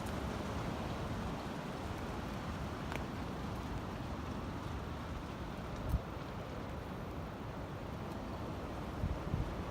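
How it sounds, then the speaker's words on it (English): Strong wind buffets a tent at a campsite in the dead of night, a steady, dense roar of rushing air with faint flapping and knocks, continuous from start to finish. "Go, wind's picking up again"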